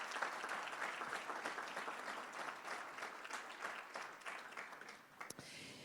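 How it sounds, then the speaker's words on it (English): Sustained applause from a sizable crowd at an awards event, steady dense clapping for several seconds that fades slightly toward the end. "Would you please give them all a very loud applause?"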